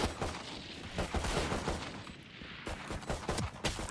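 Rapid bursts of gunfire from a video game shootout crackle in quick volleys with short gaps, moderately loud and continuous.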